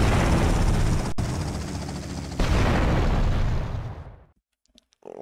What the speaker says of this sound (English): We're hit! Oh, shit! Lance! Bro, Lance fell out of the helicopter